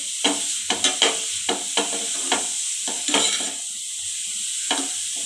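Grated carrot for gajar halwa sautéing in a pan, with a steady sizzle beneath repeated close stirring scrapes and taps of a spoon against the pan, no talking.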